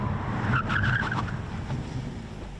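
A Hyundai Kona N stops hard, with tire squeal and road rumble rising briefly and loud, then fading as the car settles.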